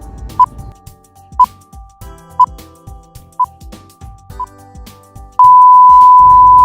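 A quiz countdown timer beeps once per second, five short evenly spaced tones, then ends in a long sustained buzzer tone, loud and clean over faint background music.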